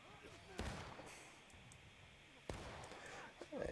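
Musket volleys in a Civil War video game crack out as a few sharp, fairly faint bursts spaced apart, over a low background rumble.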